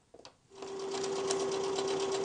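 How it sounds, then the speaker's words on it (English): A regular sewing machine stitches a straight seam on a purse made from old jeans, starting after a brief pause and then running as a steady, close, even mechanical whir with a constant hum. "The last step is to sew on a regular sewing machine."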